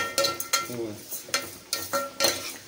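Onions cooking with salt in a pan for Tamil Nadu style chicken curry are stirred with a utensil, giving about eight sharp metallic scrapes and clinks in an irregular rhythm over a soft sizzle.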